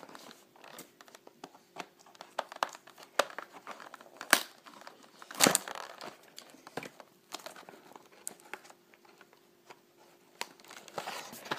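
Trading card booster pack wrapper being opened, with irregular crinkling and crackling of plastic foil and one louder tearing rip near the middle, close and moderately quiet.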